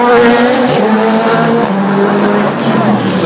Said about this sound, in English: ahead of Ollie Gavin and Jan Magnussen, the Corvettes are running in packs on the streets of Long Beach